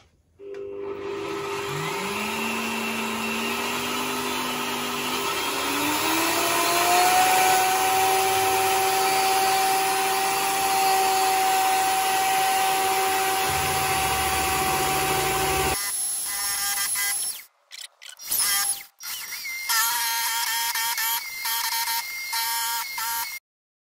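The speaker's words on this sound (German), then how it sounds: "Also jetzt habe ich das Pilotloch gebohrt, das ging relativ flott." A drill press drilling a pilot hole into 8 mm steel plate at about 1000 rpm whines steadily with a rising motor tone for roughly fifteen seconds, then cuts off and is followed by short, irregular workshop clatter.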